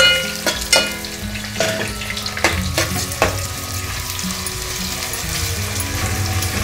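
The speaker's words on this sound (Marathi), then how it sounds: "कांदा व्यवस्थित लालसर होईपर्यंत परतून घ्यायचा।" Onions frying in a pan with spices until reddish for a restaurant-style veg pulao, a close steady sizzle broken by sharp metallic clacks of a stirring spoon early on.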